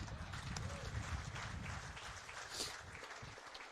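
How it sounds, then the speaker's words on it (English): A bowls match crowd at a China versus Rest of the World showcase claps in a light, scattered round of applause that fades slightly, heard from a short distance. "so once more some applause for our Chinese friends."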